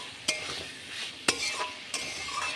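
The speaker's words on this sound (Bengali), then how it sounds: "শুধু তেলে কষা হবে" Poppy seed curry with vegetables being sautéed in oil gives a steady sizzle close by, broken by three sharp clinks of a spoon against the pan at roughly one-second intervals.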